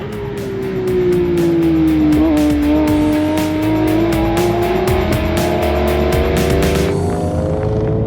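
Muscle cars race on a New Jersey track, a loud close engine note that climbs and wavers in pitch for several seconds as the cars pass, with rapid clicking across the top and the sound thinning abruptly near the end.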